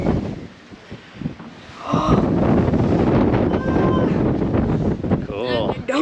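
Strong wind gusting across a microphone at a mountain trail overlook, a low roaring buffet that builds sharply partway through and stays loud, with someone speaking over it.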